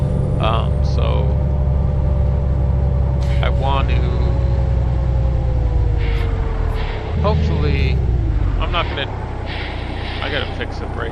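Heavy truck engine droning steadily in American Truck Simulator, loud and continuous with low rumble throughout, a voice talking quietly over it.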